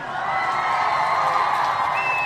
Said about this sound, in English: we want to give all of the Ujima born, all of the Ujima babies a round of applause.